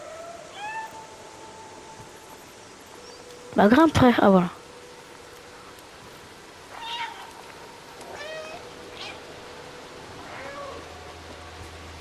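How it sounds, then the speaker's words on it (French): A cat in the video game Stray lets out a fast cluster of strained, warbling meows, followed by several softer, shorter mews spread apart, with a person talking quietly now and then. "on dirait un alien qui miaule"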